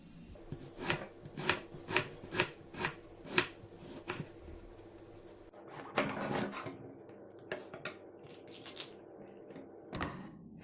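Onions that were soaked in water are sliced with a knife on a cutting board, a quick series of sharp rhythmic chops at close range, then a pause and a few scattered cuts and knocks.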